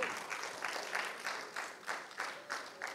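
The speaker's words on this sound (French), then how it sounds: "je vais vous demander d'applaudir ce très beau film de Jaena Louisin" An audience applauds a film at a screening, the clapping fairly soft and steady with gentle pulses over a few seconds, heard alone without speech.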